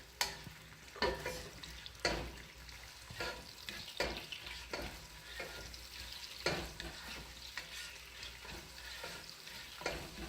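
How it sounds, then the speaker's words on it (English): Onion fries in a pan for chicken curry while being turned over and over, with a constant sizzle broken by rhythmic scraping stirs about once a second, close and clear. "Just keep turning the onion until it's"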